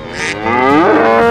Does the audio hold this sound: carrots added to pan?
no